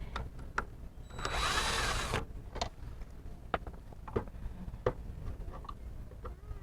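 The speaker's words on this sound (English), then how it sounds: "So the panel is held in by two Phillips head screws, so we're going to just remove the screws" Phillips head screws being backed out of a Kia Sorento tailgate panel with a power driver, one brief whirring burst followed by scattered faint clicks and ticks of handling nearby.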